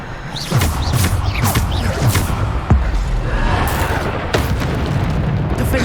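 Bombarda spell explosions in Hogwarts Legacy go off as repeated deep booms and bursts about once a second over a rumbling battle din, loud and close, with brief voiced spell calls between them.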